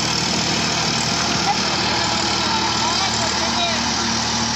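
A New Holland 3032 35 hp tractor engine runs while driving in fourth gear, low range, making a steady, continuous mid-to-low drone with no breaks or changes in pitch.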